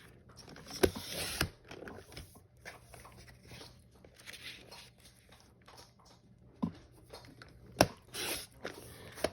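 Scissors or a paper trimmer cut strips of paper for a scrapbook page, giving quiet scattered snips and slices with soft handling sounds in between.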